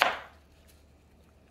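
A small Milk Street Kitchin-To knife chops into an onion: one sharp, close cut at the start that fades quickly into quiet.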